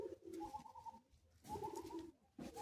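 A pair of Madrasi pigeons, just let out of their cage, give soft, throaty coos in two close repeated phrases with a short pause between, moderately near and with no talking.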